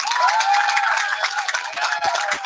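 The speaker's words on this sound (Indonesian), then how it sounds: "Kita beri aplaus buat Ungguy duduk." An audience at a gathering applauds with a dense, steady wash of clapping and crowd noise, and voices call out over it.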